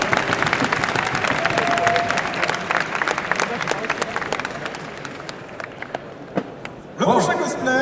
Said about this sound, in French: On peut applaudir une fois de plus Dark Candy Jinx